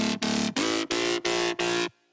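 A distorted jump up drum and bass synth bass, programmed in FL Studio, plays six buzzing, gritty stabs in an even rhythm with short slides between the notes, loud and isolated, then cuts off abruptly.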